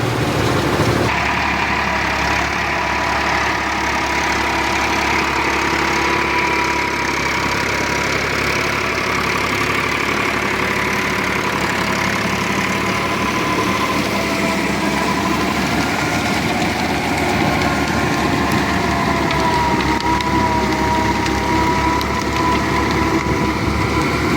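A tractor engine runs continuously at a steady drone in low second gear, loud and close, with a constant mechanical hum and faint knocking texture and no talking throughout.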